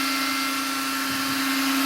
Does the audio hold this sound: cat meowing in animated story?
no